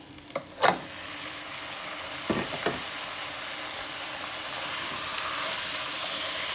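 Chicken tipped into a pan of frying onion, ginger and garlic for a chicken roast: a couple of sharp clatters, then a steady hissing sizzle that swells and holds.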